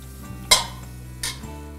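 A ladle knocks twice against a pot while stock is added to risotto rice and stirred, two sharp metallic clinks over a low background hum.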